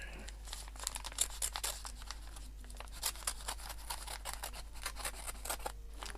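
Paper envelope from a mail exchange being cut open and torn, with a rapid string of close snipping, ripping and crinkling sounds over about six seconds, fairly quiet and steady, with faint background noise and no clear speech.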